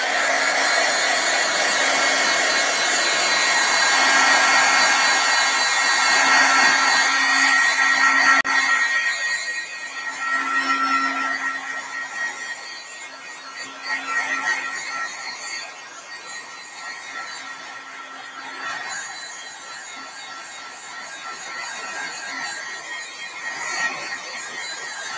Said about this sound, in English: I'm just going to hit it with the heat tool real quick to try to get this ink down in there.